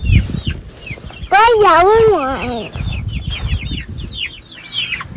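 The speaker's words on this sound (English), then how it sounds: "Pet this chicken." Chickens cluck and chirp near the microphone, with bright, short, repeated calls, while a child and an adult talk and one long, wavering vocal cry rises over them.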